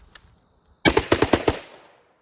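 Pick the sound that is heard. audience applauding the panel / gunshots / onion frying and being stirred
gunshots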